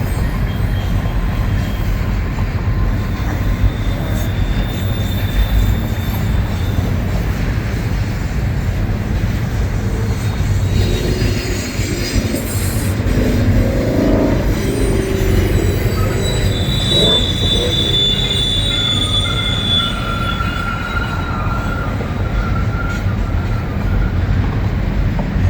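A long freight train of container cars rolls past near a river bridge, a continuous rumbling clatter with high wheel squeal drifting in and out, steady and fairly loud for the whole stretch.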